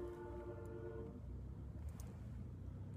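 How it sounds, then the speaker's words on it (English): Distant train horn sounding a steady, sustained chord for about a second, faint and low amid rumbling background noise, then fading out. "I thought I heard a train horn."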